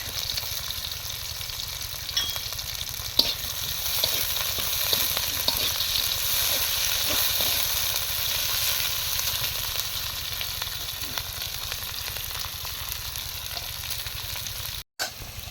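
Green chilies and onions fry in hot oil, giving a steady, close, continuous sizzle and crackle with no voices.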